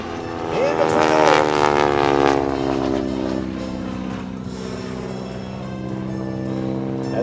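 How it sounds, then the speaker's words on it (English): A Stearman biplane's radial engine roars loudly at an air show during a wingwalking act, a steady droning growl with a rising tone early on, then holding steady and close. "Cranks the Stearman up from your right"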